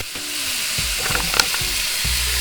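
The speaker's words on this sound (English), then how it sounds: "we're just going to put them in the pan and we're going to cook them up" Chicken pieces for a honey and soy stir-fry sizzle steadily in a pan, a continuous broadband frying hiss with a few soft knocks and utensil clicks near the end.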